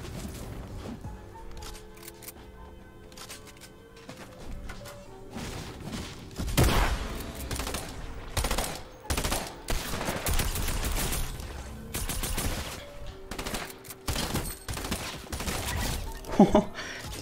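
Rapid bursts from a burst-fire submachine gun in a shooter video game, clustered volleys of sharp cracks, some close and loud, with quieter stretches and scattered game effects between the salvos.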